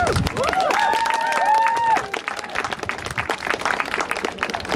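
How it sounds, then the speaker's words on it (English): A crowd gives a loud, sustained round of applause at an outdoor animal-rights rally in Manchester, with cheers and shouted voices rising over the clapping before it thins out. "So I want everyone to give them a round of applause."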